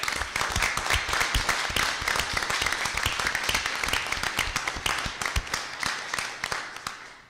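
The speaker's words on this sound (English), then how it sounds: "And one more round of applause" Sustained applause from a school board meeting crowd honoring National Merit finalists, dense clapping that holds steady for several seconds, then thins and fades toward the end.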